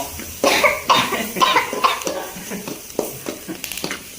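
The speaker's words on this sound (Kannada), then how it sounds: "ಕ್ಯಾಮ್ರಾಮ್ಯಾನು ಮನೆ ಮಂದಿ ಎಲ್ಲ ಕೆಮ್ತಾ ಇದ್ದಾರೆ" Household members coughing from the sharp fumes of pepper roasting for a mushroom and baby corn pepper dry, several repeated coughs and throat clears over faint stirring and frying in a home kitchen.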